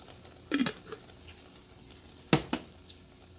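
Pasta sauce from a jar being stirred into a cooking pan, with a few short scraping and clinking bursts of utensil against the pan separated by quiet pauses.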